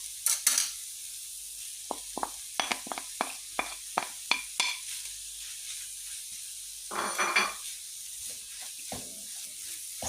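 A spoon scrapes and taps in a pan while a moist filling of grated squash and chopped vermicelli is stirred and dried over heat, giving sharp, irregular clicks over a soft sizzle with brief louder swishes.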